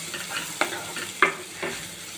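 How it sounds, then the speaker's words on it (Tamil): Capsicum sautéing in a pan for corn masala: a steady low sizzle with three distinct spatula scrapes and knocks at roughly even intervals, close and fairly quiet. "இப்போ நம்ம கேப்சிகம் போட்டுக்கலாம் இதையும் நல்லா வதக்கி விட்டுட்டு மூடி வச்சிடலாம்"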